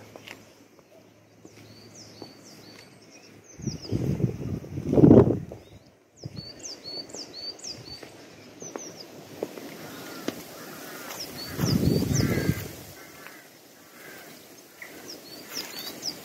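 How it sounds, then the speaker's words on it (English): Scattered bird calls chirp and whistle through a quiet garden, with soft gusts of wind and a couple of louder rustling bursts. "The only sounds I can hear are the wind and a few birds"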